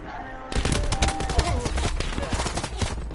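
Rapid bursts of video game gunfire crackle loudly and continuously after a brief quiet start, with fast repeated shots over a few seconds and faint talk in the background.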